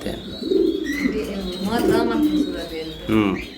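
Soft, repeated coos from a male pigeon close by at a pigeon farm, with people talking over and around them.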